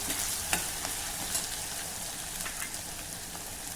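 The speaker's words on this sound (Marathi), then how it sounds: "आता कांदा, आलं, लसूण आणि हिरवी मिरची छान आपण परतून घेऊ" Onion, ginger, garlic and green chili sautéing in a pan give a steady, close sizzle with a few sharp crackles and stirring clicks scattered through, and no voices.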